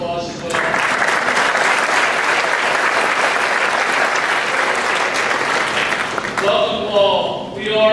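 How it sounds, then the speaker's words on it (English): An audience at a school Blue Ribbon ceremony applauds Senator John Grant with loud, sustained clapping for about six seconds, then it fades into a few scattered claps. "Can we give him a round of applause as well?"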